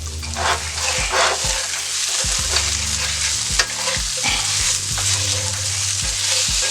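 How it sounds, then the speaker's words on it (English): A breakfast skillet casserole with potatoes is stirred in a hot skillet, with a continuous loud sizzle and repeated scraping strokes of the utensil, close up and without talk. "I'm going to stir that around in there a little bit more."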